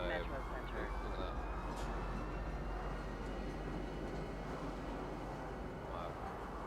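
A metro train in the video game Star Citizen rumbles with a steady, broad low roar of running wheels and carriage noise throughout, under a faint automated announcement voice.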